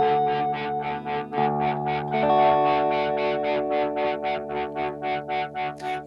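Electric guitar through a BOSS GT-1000 with 60s-style fuzz distortion sustaining chords while a tremolo pulses the volume in a steady, even rhythm.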